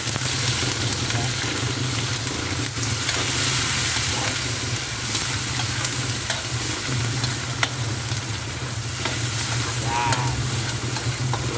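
Garlic sizzles in a smoking-hot wok-style frying pan while pork rib adobo cooks, a steady dense frying hiss with a low hum underneath and occasional stirring clinks, close and continuous throughout.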